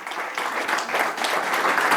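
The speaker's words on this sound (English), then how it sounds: "Please give a round of applause for Charlie Harary." An audience gives a round of applause at a community lecture event. Many hands clap in a dense, steady patter that is fairly loud and continuous, with no speech over it.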